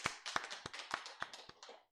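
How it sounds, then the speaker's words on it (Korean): During a Sunday service at a Full Gospel church, the congregation claps in a faint, steady rhythm, distinct sharp claps a little under a third of a second apart, heard from a distance without voices. "하나님께 영광의 박수 돌려드리겠습니다."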